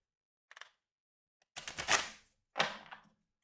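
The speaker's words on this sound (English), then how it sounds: "You can see I am shuffling." Cards or counters for the GMT Games Grand Prix racing board game are shuffled: a faint brief riffle, then two louder rattling bursts close by on a table, with silence between.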